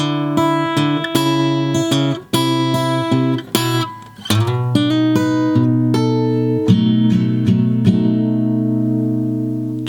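A fingerstyle blues guitar intro turnaround played slowly on a single close guitar: picked notes and chord stabs move through a descending phrase and end on a ringing, sustained chord, with no talking.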